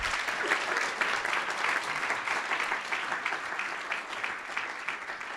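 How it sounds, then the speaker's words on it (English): An audience at a conference pitch competition claps for the entrepreneurs, a steady dense roar of applause filling the room from start to finish with no voices over it. "can we just give a round of applause to all of our entrepreneurs?"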